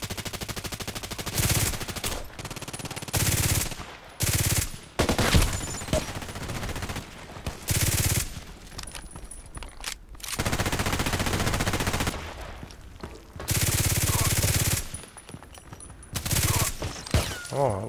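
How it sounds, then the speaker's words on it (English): Bursts of gunfire in a sniper video game break out in repeated loud volleys of rapid machine-gun fire, separated by short quiet gaps, with a few sharp single shots in between. "Oh, that was the last bullet shot."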